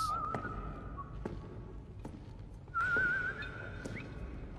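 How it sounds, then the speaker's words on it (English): Someone whistles a few thin, wavering notes in two short phrases, quiet and somewhat distant, with sparse clicks and knocks in between. "He's whistling."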